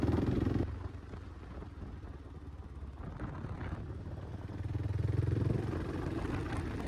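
Kawasaki KLR650 dual-sport motorcycle, a 2008 model, ridden up a mountain road near Osoyoos, with a steady engine drone and wind rumble that swells in the middle and holds strong without speech.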